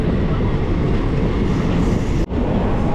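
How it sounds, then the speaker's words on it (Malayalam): The Thiruvananthapuram–Chennai Egmore Express rumbles past close by, a loud, steady roar of rolling wheels and carriages that dips briefly near the end, with no voices. "തിരുവനന്തപുരം ചെന്നൈ എഗ്മോർ എക്സ്പ്രസ് രണ്ട് വണ്ടിയും ഒരേ ഫ്രെയിമിൽ"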